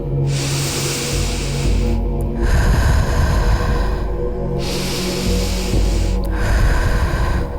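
Deep continuous breathing during an energy healing practice: loud, close inhales and exhales that alternate without pauses, each breath a long airy rush, repeating in a steady cycle.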